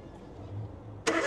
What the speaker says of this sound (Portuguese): O amigo vai dar partida. Vamos escutar aqui o ruído do motor.